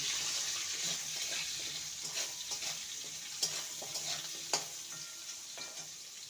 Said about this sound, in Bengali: হলুদ গুঁড়ো আলুটাকে ভেজে নেব